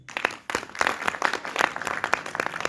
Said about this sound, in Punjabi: ਉਹਨਾਂ ਵਾਸਤੇ ਜ਼ੋਰਦਾਰ ਤਾੜੀਆਂ